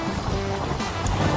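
Low, calm sea waves on a windy coastline, heard as a steady broadband wash with wind noise across the microphone and no speech.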